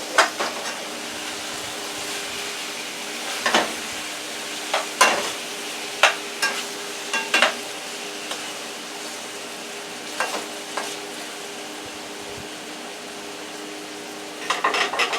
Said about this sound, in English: I'm going to turn it all over so that I know that everything has the oil on it and lubricated